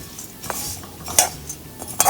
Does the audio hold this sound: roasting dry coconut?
yes